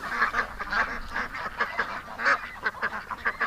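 Ducks and geese honk and quack in a busy, repeated chorus close by, calls overlapping in irregular bursts with no talking.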